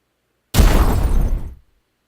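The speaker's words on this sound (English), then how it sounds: "There's a lot of explosions." A single loud, close video game explosion bursts suddenly with a harsh crackling roar, then cuts off after about a second.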